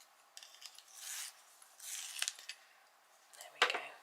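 A burnt sienna coloured pencil is turned in a small sharpener, giving several soft, close scraping rasps in short bursts with quiet pauses between.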